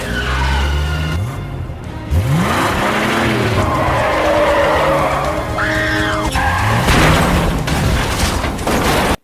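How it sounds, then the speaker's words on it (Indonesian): Cars skid and ram each other, with repeated sharp tire squeals, revving engines and a heavy impact boom, loud and close with no talking. "Angela akan mengambil langkah berani dengan akan menantang Thomas untuk adu nyali dengan cara saling menabrak mobilnya satu sama lain."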